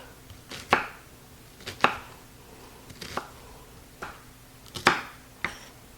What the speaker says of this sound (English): Now I'm just going to rough dice this because they'll soften up in the pan.